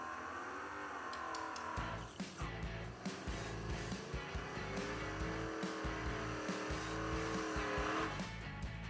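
A Mustang and a Camaro door car race at a drag strip, with loud revving engines and squealing tires up close, broken by sharp bursts.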